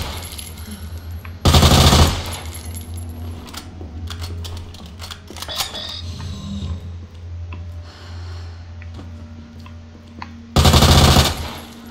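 In Resident Evil 2, two loud bursts of rapid machine-gun fire, one early and one near the end, with scattered clicks and mechanical clatter between them.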